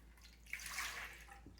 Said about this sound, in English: We're gonna pour our warm milk into our bowl.